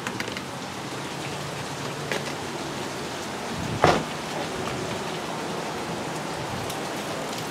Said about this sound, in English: It's like a rainstorm that keeps coming.